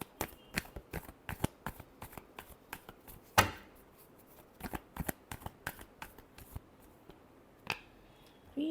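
Tarot cards are shuffled by hand in a steady series of sharp, riffling slaps and flicks, close and fairly quiet, with no talk over them.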